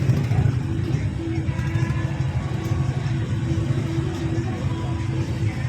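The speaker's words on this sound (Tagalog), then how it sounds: "Pati sa kabila traffic din oh." Dense traffic on both sides of a road makes a continuous low rumble of car, bus and truck engines, steady and close throughout.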